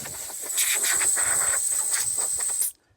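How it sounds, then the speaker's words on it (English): Compressed air blows from a regular air nozzle in a steady, loud hiss for about two seconds, then cuts off abruptly. "Another quick demonstration of just using air. This is just a regular air nozzle."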